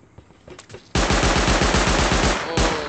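Loud automatic turret gunfire in the Rust video game, a rapid stream of close shots starting abruptly after a second of quieter game sounds, continuing steadily, briefly easing and then resuming near the end.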